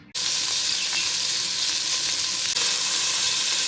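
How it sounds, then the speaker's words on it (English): A handful of meat dropped into a hot pan to brown: an abrupt onset of loud, dense, steady sizzling that holds close and even for a few seconds, with faint stirring ticks, no talk. "it goes like a handful into the pan because we don't want to cook it, we just want to brown the meat"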